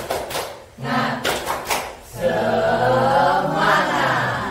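An audience of teachers at a school training session gives a spirit clap: short bursts of group hand claps in a quick rhythm, followed by voices chanting together.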